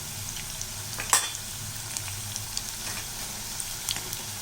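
Maida snacks fry in oil with a soft, even bubbling sizzle that runs throughout, fairly quiet and close, with one small tap near the start.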